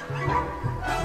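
A chihuahua barks in a film, a couple of short yapping barks mixed in with music and other soundtrack sound, fairly close and moderately loud.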